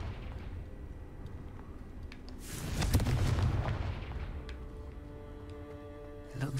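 A Confringo fire-blast spell in Hogwarts Legacy goes off in a cave with a rumbling boom about a second long. It swells from a quiet ambient hum and fades back into it.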